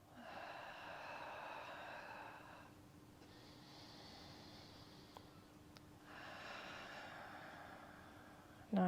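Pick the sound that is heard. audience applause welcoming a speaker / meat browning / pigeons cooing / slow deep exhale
slow deep exhale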